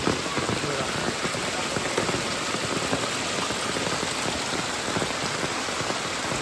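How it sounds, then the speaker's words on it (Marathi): Heavy monsoon rain pours down steadily in the Konkan countryside during a fishing outing, a dense, unbroken hiss of drops striking surfaces close by, with no voices. "पाऊस बघा किती आहे पण."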